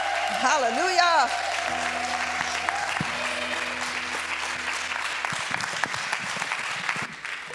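A church congregation applauds steadily through a worship service, with cheering voices and a steady background hum under the clapping.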